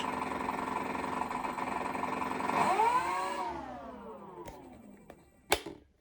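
The electric motor of an E-Flite Cirrus SR22T 1.5 m RC plane whines steadily, rises in a brief throttle surge and then winds down as reverse thrust is tested, ending with a couple of sharp clicks nearby.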